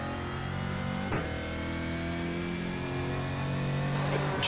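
A Brazilian stock car engine in iRacing drones steadily at moderate loudness, with a brief sharp transient early on and a rising rev toward the end, with no talking.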